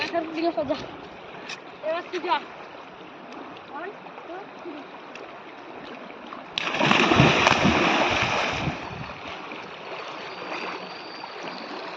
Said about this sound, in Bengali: বাচ্চা ছেলেগুলো খুব সুন্দরভাবে চান করছে।